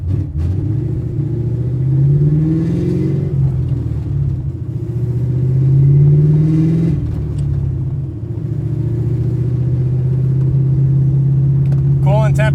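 A 1998 Cobra's engine rumbles close and loud throughout, swelling in slow rev surges and settling back as the car drives, with a speaking voice running over the drone.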